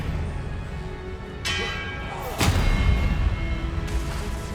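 Expelliarmus spell cast in Hogwarts Legacy, sharp magical bursts with a bright crackling strike and a heavier impact a second later, ringing tails under faint game ambience.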